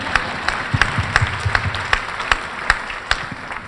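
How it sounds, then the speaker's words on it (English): A modest audience at a public safety and community appreciation luncheon claps, with sharp individual claps standing out in a loose, fairly regular rhythm over a softer bed of applause. "Y'all can clap for that."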